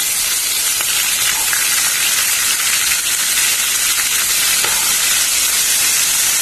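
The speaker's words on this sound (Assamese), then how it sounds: "কেকৰা ভাজিতে অকমান সাৱধান হ'ব লাগে বহুত ফুটিছে" Crab frying in a hot wok of oil, a loud, dense, continuous sizzle with crackling spatter close by, steady throughout with no voices.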